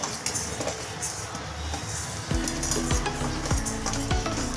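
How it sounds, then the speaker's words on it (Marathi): Black sesame seeds roast in a dry pan for a Malvani-style chutney, a constant crackling hiss with rhythmic scraping and clinking of a utensil against the pan in the second half, close and without speech. "आता हे बघा, मी हे पण तीळ भाजून घेणार आहे।"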